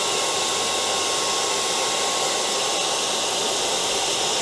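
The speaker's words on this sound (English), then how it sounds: "Now they want you to take the blow dryer, and because there's a double-sided tape on there." Steady, unbroken whooshing roar of a hair dryer blowing hot air to warm double-sided tape on rain visors being fitted to a 1997 Honda Civic hatchback, running alone at an even level throughout.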